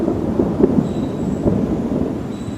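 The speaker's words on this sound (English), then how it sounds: "can I get this done before the storm comes?" Low rumbling thunder from an approaching storm rolls steadily in a yard setting, with a continuous broad roar and a few soft swells, moderately loud and without speech.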